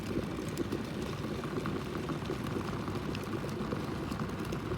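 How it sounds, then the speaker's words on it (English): Water boils vigorously in a kettle, making a continuous, dense bubbling and rumbling hiss at moderate level that holds steady throughout, with no voices. "you can probably hear it boiling vigorously right now"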